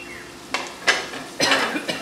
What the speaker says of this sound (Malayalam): ഇനി നമുക്ക് ഇതിലേക്ക് നമ്മൾ അരിഞ്ഞു വെച്ചിരിക്കുന്ന സവാള ഇടാം